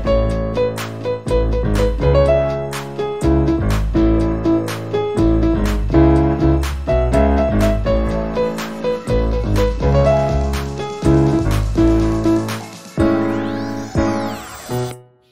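The chorus of a song plays on piano, with close, loud chords and melody in a steady rhythm for about thirteen seconds, then a short sweeping tone as it fades.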